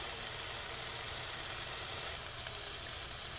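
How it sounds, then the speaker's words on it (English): Onions, bell peppers and potatoes sizzle steadily in a pan, a soft continuous hiss of frying with no talking, faint and even from start to finish. "because I want my onions and my bell peppers to kind of cook up a little bit more"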